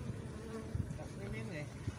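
A low, continuous buzz of guard honey bees at the hive hums close by, faint and steady with slight swells.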